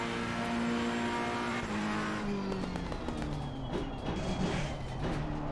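A Ferrari race car in Assetto Corsa Competizione screams through rising engine notes with abrupt gearshift breaks and crackling pops, loud and continuous with no talking.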